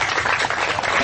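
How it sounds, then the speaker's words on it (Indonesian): An audience at a Kenduri Cinta gathering applauding: a dense, steady wash of clapping from many hands that fills the whole brief moment. "Tepuk tangan."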